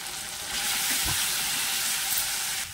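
Chili powder hitting hot oil in a vegetarian curry base with tomato, giving a steady broadband sizzle with a brief stronger burst, close and fairly loud, no voices.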